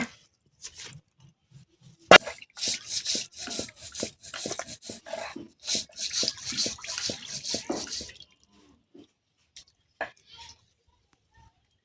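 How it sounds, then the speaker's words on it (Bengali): Fatty raw goat meat rubbed and rinsed by hand in water, a close run of wet rubbing and sloshing strokes lasting several seconds before falling quiet. "আর একবার জল দিয়ে খুব ভালো করে খাসির মাংসটা ধুয়ে নেব"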